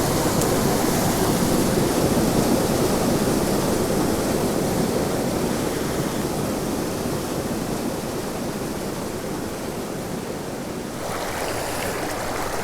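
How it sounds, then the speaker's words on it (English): A big wild waterfall on a cutthroat trout stream roars in a constant, loud, broad rush of water, steady throughout with no voices. "Big waterfalls like that, they're pretty cool, they're pretty interesting, but they're hard to fish"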